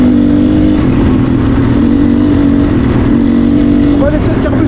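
A 450 ERZ motocross motorcycle engine runs loud and close after being restarted, holding a steady droning idle throughout, with a brief voice near the end.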